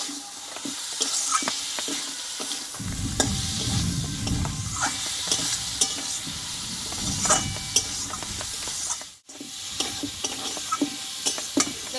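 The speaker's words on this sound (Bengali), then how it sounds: "মশলার সঙ্গে আলুটা আমি আরও কিছুক্ষণ কষিয়ে নেব" Potatoes frying with spice paste in a pan for a Bengali potato and pointed gourd dish, a continuous close sizzle broken by repeated stirring and scraping strokes, no voices.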